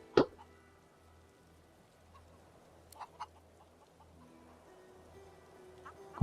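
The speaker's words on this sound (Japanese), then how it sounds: "鶏がいっぱいな" Chickens cluck in Divinity: Original Sin 2 inside a manor: a sharp squawk at the start, then a few faint scattered clucks over a low game hum.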